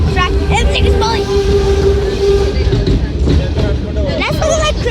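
A moving train rumbles and rattles loudly and steadily, with metallic squeals and clatter above the low roar, while someone talks over it.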